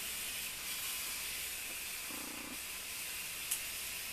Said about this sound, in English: Get all that steam.